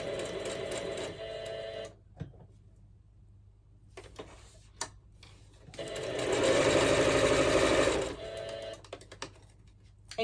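Sewing machine stitching fabric for a bookmark, a close rapid mechanical chatter in short bursts with pauses between, then a longer, louder run of stitching before it stops again.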